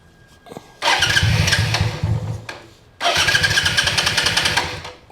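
Suzuki VL250 motorcycle engine with 48mm pod filters set to a very low idle, struggling through two long cranking bursts that fail to start, close and fairly loud, no talking.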